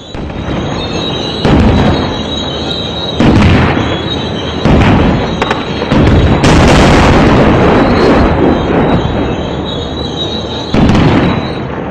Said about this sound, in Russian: Боевики стреляют из гранатометов и орудий.